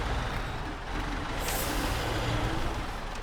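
A heavy truck in the off-road driving game SnowRunner idles with a low engine rumble, and one sharp, hissing air-brake release cuts in midway, with no talk.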